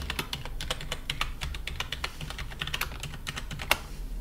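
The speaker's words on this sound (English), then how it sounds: "And then we'll go ahead and type our password." Rapid, uneven keystrokes on a computer keyboard as a password is entered during a Windows 10 domain login, close and clear with no talking.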